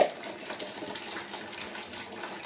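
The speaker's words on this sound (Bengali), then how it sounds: "কাচকি মাছ এই ঝুড়িতে ফেলে আমরা ধুই" Small kachki fish being washed with water in a basket, a steady moderate splashing and trickling wash running continuously without any talk.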